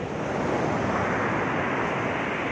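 Powerful surf crashing continuously onto a black sand beach, a dense, roaring wash of breaking waves with wind noise over the microphone, close and loud throughout.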